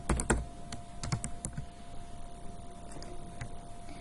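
Brisk clicks of a computer keyboard as a cost center name is typed into accounting software, a quick flurry of keystrokes up front, then sparser taps over faint electrical hum.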